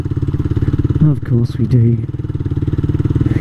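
A motorcycle engine thrums in a steady close pulsing idle-like rhythm while ridden on city errands, with someone talking briefly over it.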